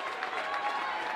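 A crowd applauds at a girls high school basketball game, a steady wash of clapping and cheering in a gym, with a commentator's voice running over it.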